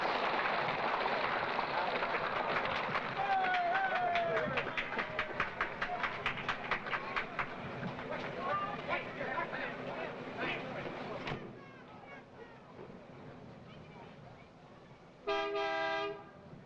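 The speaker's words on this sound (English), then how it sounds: "The train is moving now into place for loading" A train at Disneyland in 1959 moves into place for loading, rumbling under a busy crowd, then a short, bright horn toot sounds near the end.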